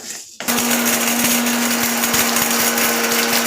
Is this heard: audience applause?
no